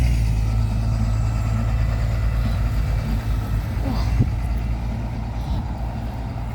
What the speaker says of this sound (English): Another service bus.